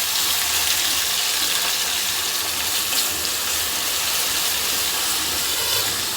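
Ginger, chili and garlic paste sizzles steadily over a low flame in a kadai, a broad continuous hiss with no break or voice.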